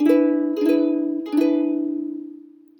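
A guitar chord strummed three times, each strum ringing out and the last left to sustain and fade, close and alone without speech.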